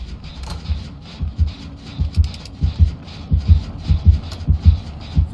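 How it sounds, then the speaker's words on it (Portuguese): A heavy, throbbing heartbeat from Dead by Daylight Mobile, a steady double-thump pulse repeating close and loud throughout with almost nothing else. "Sentindo o coração batendo mais forte"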